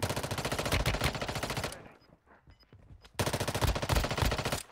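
Rapid automatic gunfire in the mobile shooter game Warzone Mobile, loud, dense bursts that break off briefly into a quieter gap before the firing resumes.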